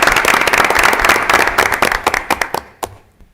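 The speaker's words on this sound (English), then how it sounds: "Give them a round of applause for those three students." An audience at a school board meeting applauds three students, a burst of dense clapping that thins out into a few scattered claps and then stops.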